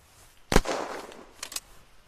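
A single sniper rifle gunshot in the Unturned video game, a sharp loud crack with a short rumbling tail, followed by a fainter double report a second later.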